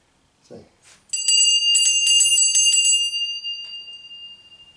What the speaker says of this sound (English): The temple priest, the Hotari, has rung his bell.